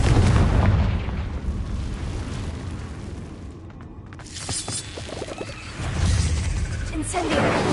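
Confringo spell blasts from Hogwarts Legacy boom loudly at the start and again near the end, with whooshing bursts and crackle in between amid continuous combat noise.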